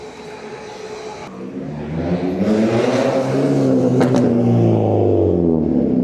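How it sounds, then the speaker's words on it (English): A Kia Picanto's engine revs up close through a large, loud exhaust, the pitch rising and falling as the throttle is blipped, growing louder toward the end. "Kia Picanto with a giant exhaust on."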